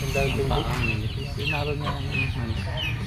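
Gamefowl in a backyard breeding yard cluck in repeated short calls over a constant low hum, with a voice talking through the clucking.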